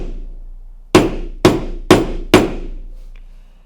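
A Tippmann X7 Phenom paintball gun is rapped against a hard surface to pop out a pin: four sharp, evenly spaced knocks about half a second apart, close and loud, with no talking.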